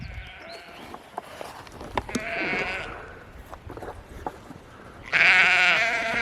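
Sheep and goats bleat repeatedly nearby on a homestead, several overlapping calls, with a loud drawn-out bleat toward the end.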